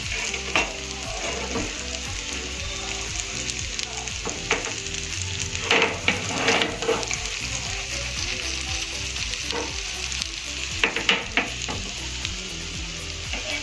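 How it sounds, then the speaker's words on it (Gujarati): Eggplant frying in a pan gives a steady, dense sizzle that runs throughout, broken by a few brief clattering bursts. "હવે આપણે આ સાઈડથી એને બરાબર શેકાવા દઈશું."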